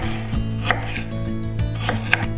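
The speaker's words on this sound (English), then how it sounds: "Now we are going to chop the tomato." A knife roughly chops half a tomato on a board in a home kitchen while ghugni is being made: a handful of crisp, irregular chops over a steady background hum.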